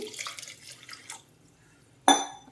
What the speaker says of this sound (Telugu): దీనికి మనం పాకం కోసం ఏ గ్లాస్తో అయితే బెల్లం తీసుకున్నామో అదే గ్లాస్తో ఒక గ్లాస్ వాటర్ అయితే వేస్తున్నానండి